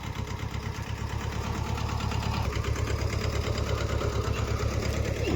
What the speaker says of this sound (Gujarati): ટ્રેક્ટર વારે છે ભરતભાઈ